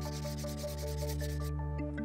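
Sandpaper rubbing against a hard Guanacaste tree seed to scarify it, a steady close abrasive scraping that runs continuously over a constant background hum.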